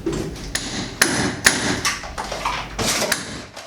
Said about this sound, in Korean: 튼튼하게 고정된 자재들을 사정없이 두들기고 뽑고